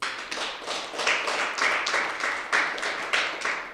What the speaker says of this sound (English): can you give these people a very, very big round of applause?